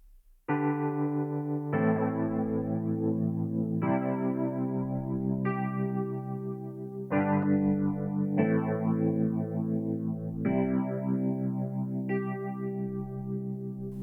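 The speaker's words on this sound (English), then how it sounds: "Now the flanger and phaser that will add the jet flying, swirling and swooshing effect to the sound." Sustained Wurlitzer electric piano chords change every couple of seconds, each swept by a swirling, whooshing flanger and phaser modulation that rises and falls like a passing jet.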